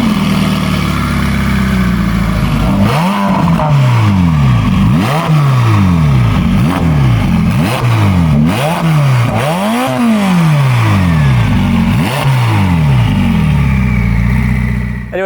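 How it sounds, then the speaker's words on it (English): A loud Novitec Ferrari F8 N-Largo engine revs repeatedly, rising and falling in pitch about every second, with a deep growl between revs, close and continuous. "I'm going to give it a couple of revs and hopefully the microphone can do that justice."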